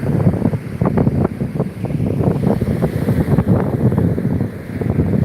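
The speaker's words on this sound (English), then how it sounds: "Watch the tide roll in." Atlantic Ocean surf rolls in at the beach beside the Myrtle Beach boardwalk, a loud, continuous wash of breaking waves mixed with gusty wind buffeting the microphone.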